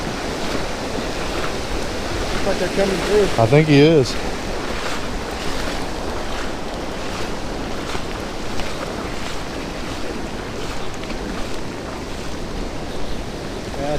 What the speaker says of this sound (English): Let's show you the actual creek if I don't get swept away here.